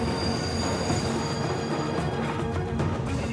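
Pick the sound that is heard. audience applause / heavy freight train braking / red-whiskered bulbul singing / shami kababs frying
heavy freight train braking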